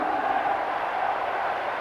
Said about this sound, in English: give a big cheer to John Deere